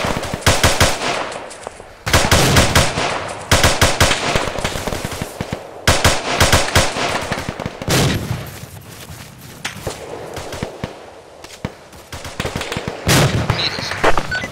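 Sustained machine gun fire in the Arma 2 military shooter during a night coop battle, long loud bursts of rapid automatic shots with short gaps between them.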